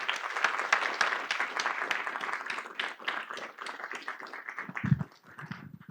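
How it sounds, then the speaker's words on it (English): An audience at a planning workshop claps together in sustained applause, dense and even, then thinning and fading out near the end. "So let's give yourselves a round of applause."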